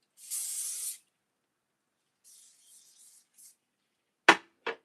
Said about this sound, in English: And then you apply your whole spray.